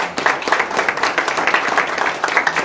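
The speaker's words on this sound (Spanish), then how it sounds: "en verdad un aplauso para él." An audience applauds a black-belt martial arts instructor during a speech, lively close clapping from many hands with quick uneven pulses, loud and sustained without talk.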